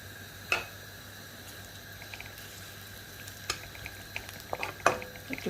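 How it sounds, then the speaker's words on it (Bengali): Chopped onions frying in hot cooking oil in a pan for a potato and pea ghonto, a soft steady sizzle with scattered light clinks and scrapes of stirring, quiet and close with no talking. "একটু ব্রাউন করে ভেজে নেব পেঁয়াজগুলোকে।"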